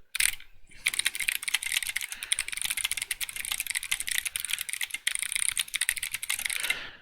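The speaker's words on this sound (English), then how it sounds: "I am going to give you a typing demo" Fast, continuous typing on a custom-built mechanical keyboard with modded switches, a dense close clatter of sharp key clicks and thocks running for several seconds without any voice.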